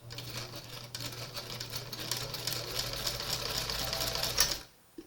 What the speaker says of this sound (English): set it to a zigzag stitch and a small zigzag stitch, and then just put your needle in and then stitch it across there at least twice